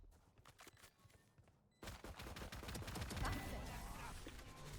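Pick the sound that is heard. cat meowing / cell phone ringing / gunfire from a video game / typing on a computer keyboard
gunfire from a video game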